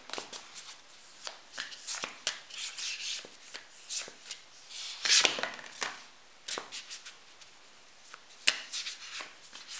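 Oracle cards, including an angels and ancestors deck, shuffled by hand in quick papery riffles and rubs, bursts repeating irregularly over about ten seconds, close and quiet, no talking.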